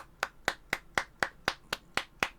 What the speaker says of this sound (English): weren't supposed to record me smacking my own bum